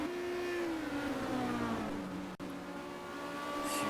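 Touring race cars racing at the Dijon circuit in 1990, engines droning and shifting pitch as they pass at a distance, with a brief sharp drop in the middle and no voices.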